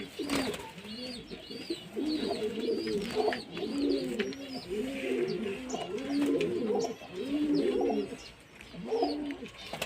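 Domestic pigeons kept with their young coo in repeated rolling, throaty calls, several birds overlapping steadily nearby with faint chirps and background rustle.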